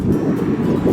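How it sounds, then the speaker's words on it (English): Wind buffets a microphone at a free campsite by a football oval in Lyndhurst, New South Wales, with a constant low, rumbling roar that swells slightly in gusts throughout. "I apologise for the wind, it's quite windy today."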